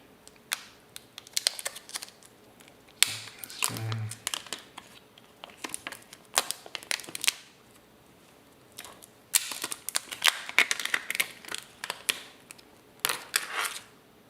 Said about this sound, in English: Plastic removed.